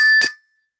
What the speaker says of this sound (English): We think we got a good bell going here.